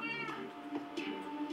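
Cats meowing in the Minecraft video game, several short repeated mews in quick succession, fairly clear and close.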